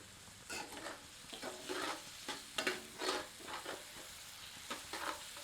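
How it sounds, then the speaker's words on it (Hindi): A ladle stirs chana dal masala with tomato and salt as it roasts over medium heat in a pan. Soft, intermittent scraping strokes sit over a faint sizzle, fairly quiet, with no voices. "सबको मिलाकर 2 मिनट मध्यम आंच पर भूनते हैं।"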